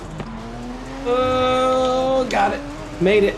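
A Porsche 911 Speedster racing in the video game Forza Horizon 5 drones with a rising engine whine, then tires squeal through a corner, with someone speaking briefly over it.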